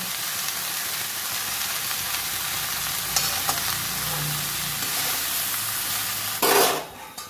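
Bottle gourd with salt cooking in a pan, a steady close sizzle and hiss with a few stirring clatters and a louder burst of sizzling near the end.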